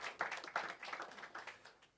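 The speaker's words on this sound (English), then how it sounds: "Give her a round of applause" Scattered applause from a small audience at a press conference for a city running series, greeting the acting president of Athletics Free State; a few people clap fairly faintly and the sound tapers off after about two seconds.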